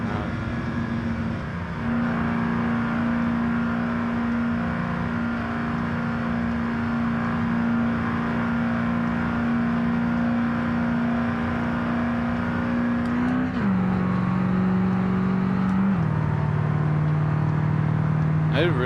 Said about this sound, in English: I didn't realize I had the truck way too high revving there.